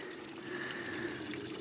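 Water runs from a pipe as overflow spills out the top of a full tank on a farm water system, a steady, soft continuous flow with no voices.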